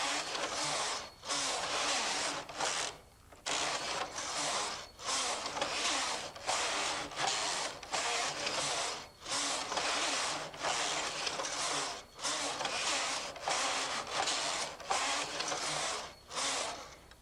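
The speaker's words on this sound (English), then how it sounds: "That time it only took 2 passes of the lace carriage." A knitting machine's lace carriage makes repeated passes across the needle bed, a steady mechanical whirring rasp in long strokes broken by brief pauses at each end, close and continuous.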